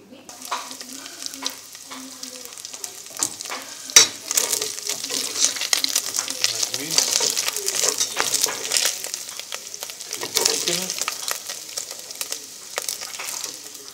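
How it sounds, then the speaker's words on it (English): Lamb mince frying and browning in a pan, a constant crackling sizzle close by with scraping and stirring of a utensil and occasional metallic clinks. "lamb mince. You can cook it. You just cook it till it goes brown."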